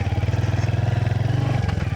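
A Royal Enfield Hunter 350 single-cylinder motorcycle thumps along in first gear on rough off-road ground, its engine pulsing in a fast, even beat close by, shifting tone briefly near the end.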